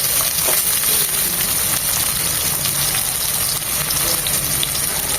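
Chopped onions fry in four spoons of soybean oil in a pan, a loud, constant close-up sizzle and bubbling hiss that carries on without pause or talk.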